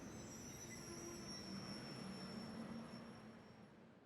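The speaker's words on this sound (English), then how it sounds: "All our people will be coming off of this train." Train wheels squeal steadily and loudly as a train pulls in, set in the video game The Legend of Heroes, with a sustained high metallic whine over rumbling rail noise for the whole stretch, fading slightly at the end.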